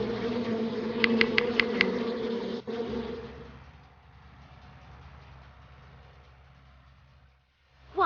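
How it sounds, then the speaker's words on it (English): Cartoon bees buzz in a steady drone behind upbeat game music during a Masha and the Bear kids' driving level, with a few sharp chimes early and the sound dropping away near the end. "the bees won't let us through."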